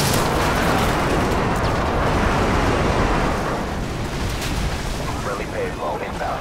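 Dense, roaring explosions from Predator missiles in Modern Warfare 2, one continuous loud rumble that slowly thins out, with speech over it.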